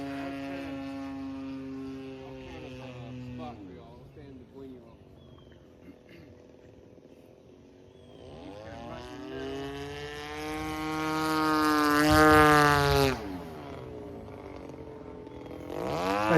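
A scratch-built RC T34A model airplane makes passes overhead, its small propeller motor whining and shifting in pitch as it approaches, fades, then swells louder on a close pass near the end.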